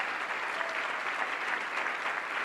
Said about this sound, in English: let's give them a round of applause for all the decades of work that they've been doing